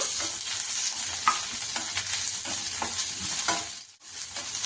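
Green chillies and onions frying in a pan for a tomato onion chutney, a steady close sizzle with occasional stirring scrapes, briefly dipping near the end, no voices.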